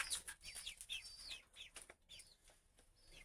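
Faint chirping and clucking calls from fowl repeat at an uneven pace, with quiet outdoor ambience between them and no talking.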